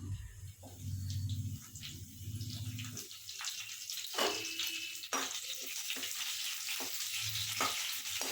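Cumin seeds and curry leaves fry in hot oil for tomato rice, giving a steady close sizzle with a few sharp crackles and stirring scrapes throughout.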